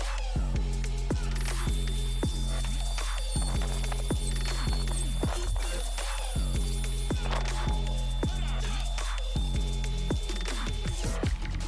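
Repetitive, evenly spaced mechanical pulses with a steady low hum throughout. The pattern fits a router cutting hinge recesses into an external door, but the tool type cannot be confirmed.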